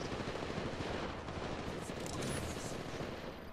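Rapid gunfire bursts rattle in Apex Legends Mobile, with dense automatic shots running without a break, somewhat distant and muffled, and no voices.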